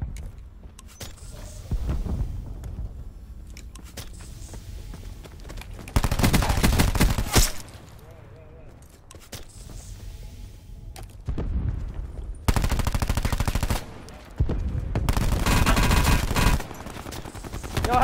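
Gunfire in the Call of Duty Blackout battle royale game, bursts of rapid automatic fire alternating with quieter stretches of movement and mechanical noise, loud and close, with no talk over it.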